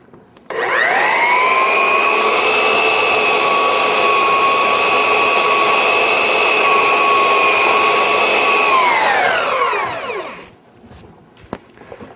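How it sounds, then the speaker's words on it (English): A belt sander runs steadily with an abrasive cleaning stick pressed against its moving belt, a loud, even whine lasting about ten seconds before winding down, with no talking. "with just a kiss or two on top of that stick, I can very easily clean the belt."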